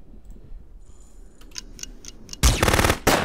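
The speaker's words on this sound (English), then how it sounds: "that is a sniper rifle" Sniper rifle fire in UFO: Aftermath: faint clicks first, then loud sharp cracks in quick succession and a final heavy shot, close and dominant with no talk.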